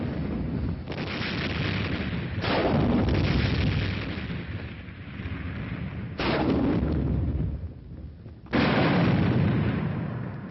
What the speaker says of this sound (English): a representative group of combined weapons of a reinforced infantry company fires simultaneously.